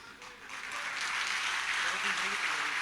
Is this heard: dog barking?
no